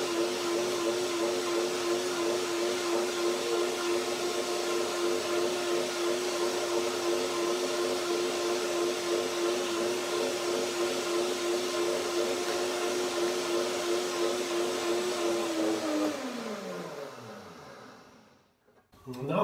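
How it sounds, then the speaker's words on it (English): A blender whirs steadily and loudly while blending macadamia nut cream, then its motor pitch drops as it winds down and stops. "And then the second blending to make it really nice and creamy."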